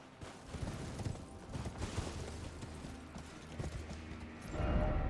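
Horse hooves clopping in the video game Elden Ring, a quick run of hoofbeats against a busy game background, building louder toward the end with no talking.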